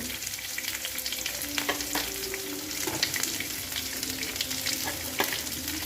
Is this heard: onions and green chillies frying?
yes